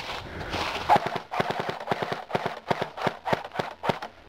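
A Dboys Scar-L airsoft rifle fires in rapid, close bursts, a string of sharp clattering shots repeating in quick rhythm for several seconds.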